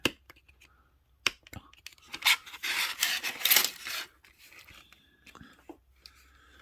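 Rasping filing strokes shave a part down against a body panel on a car build. A cluster of close scraping rubs sits mid-clip, with a few sharp clicks and quiet gaps around it.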